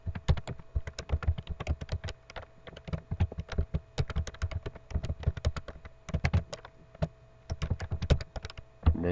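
A part name is typed on a computer keyboard in CAD software, producing rapid close clicking keystrokes in quick bursts with brief pauses, no talking.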